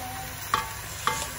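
Pork sauté being stirred in a hot pan, a steady faint sizzle broken by two sharp spattering pops about half a second apart, with no voices.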